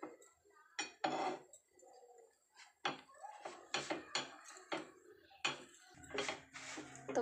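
A metal spatula scrapes and clinks against a pan while pressing an egg paratha flat, giving a string of short, irregular taps and scrapes, close and fairly quiet.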